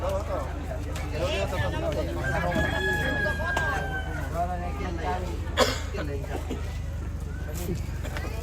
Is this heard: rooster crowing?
yes